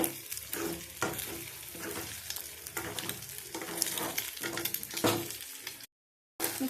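Egg mixture sizzling in a frying pan for egg rice while a spoon stirs it, steady frying hiss with repeated scraping strokes close by, ending in a brief cut to silence.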